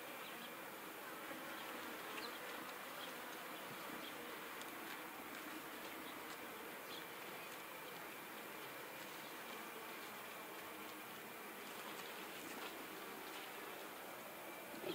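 Honey bees buzzing around an open horizontal hive, a dense continuous hum of many insects close by, steady and fairly quiet, with no talking.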